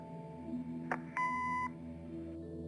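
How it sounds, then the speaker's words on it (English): An answering machine in a video game: a short electronic chirp is followed by a steady synthetic beep lasting about half a second over a low, constant hum. "Leave a message after the beep."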